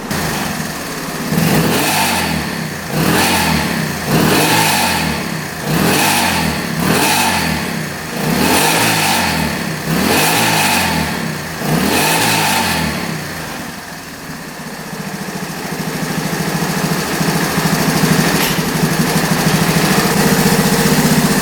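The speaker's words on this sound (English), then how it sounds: "this thing's been idling for like 15 minutes" A small engine, just repaired and with the choke fully off, revs in a series of rhythmic bursts, then settles into a steady, loud, continuous idle.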